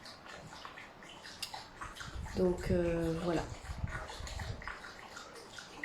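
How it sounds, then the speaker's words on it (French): A dog drinks water indoors, with a short burst of squeaky, wet lapping in the middle, partly under a person talking softly. "de mon chien qui boit de l'eau"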